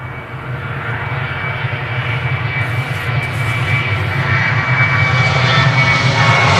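A Ryanair jet airliner departing Manchester Airport for Berlin roars steadily, its engine noise slowly growing louder as it climbs away, with no talk over it.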